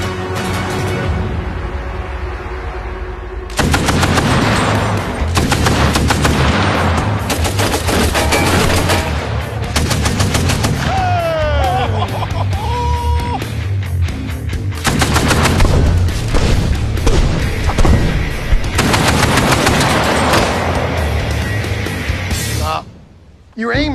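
Long, loud bursts of machine gun fire aimed at a plane target, roaring almost continuously at close range with short gaps between bursts and people talking faintly underneath.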